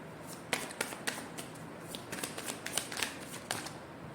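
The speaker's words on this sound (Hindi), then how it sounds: "चलिए थोड़ा सा और शफल करते हैं।" Playing cards are shuffled up close, with a series of crisp riffling bursts and light snapping taps coming in quick, uneven succession, fairly quiet and with no one talking.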